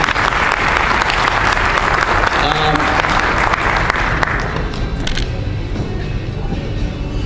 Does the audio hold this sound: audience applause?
yes